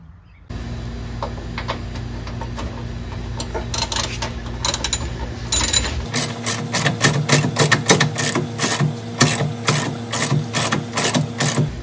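A ratchet wrench tightens the nut on a Bilstein 4600 rear shock, starting as a faster, softer whirr of clicks and then turning into loud, crisp clicking in short bursts at close range.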